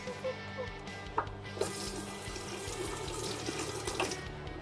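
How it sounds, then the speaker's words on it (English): Hands are washed under a running kitchen tap before baking, a steady rush of water with a couple of sharper splashes as the hands move through the stream. "First step is to wash your hands, of course."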